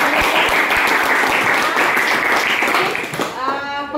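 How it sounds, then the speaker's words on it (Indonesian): Classroom applause for two student groups after a drama performance, a dense patter of clapping from many students filling most of the moment before fading, with voices surfacing near the end. "tepuk tangan untuk dua kelompok ya."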